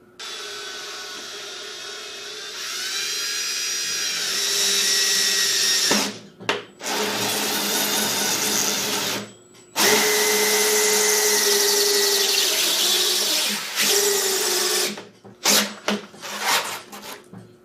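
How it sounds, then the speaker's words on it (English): Power drill driving a hole saw through a melted plastic bead shield, a loud whining, grinding cut that revs up, stops abruptly several times, then ends in short bursts. "I have a hole saw. We're going to see how ugly of a process we can make this."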